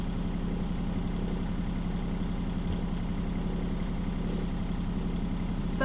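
An engine run to charge batteries idles steadily in a low, even drone with a faint vibrating rattle, constant throughout and fairly quiet.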